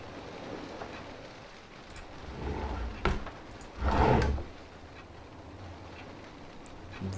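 Drawers sliding open and shut in a horror video game: a couple of distinct wooden scrapes and thuds, one sharp knock and a longer rumbling slide, over faint ambient hiss, with no talking.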